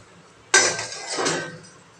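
A metal lid is set down over a pot of boiled tea on the stove, giving one sharp clank followed by a short rattling settle, close and alone in a quiet kitchen.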